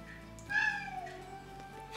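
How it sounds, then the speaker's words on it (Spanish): A cat gives a single clear meow of about a quarter second, fairly close and alone over a faint room hum, with no talk around it. "Ahí está el gato."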